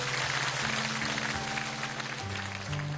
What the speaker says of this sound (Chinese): 来掌声欢迎党大哥。